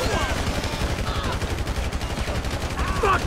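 Continuous gunfire fills a chaotic shootout with police in the video game GTA 5, with rapid, dense shots layered over game noise and faint voices throughout.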